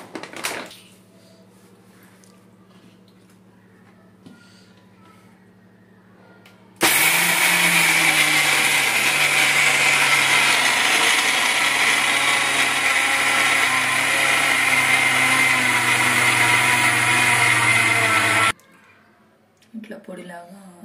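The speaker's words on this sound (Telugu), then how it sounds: "2 కప్పులు మిక్సీ జార్లో వేసి మిక్సీ పట్టుకోవాలి." A kitchen mixer grinder whirs loudly and steadily for about eleven seconds, grinding cashews into powder in its jar, with quieter stretches of talk before and after.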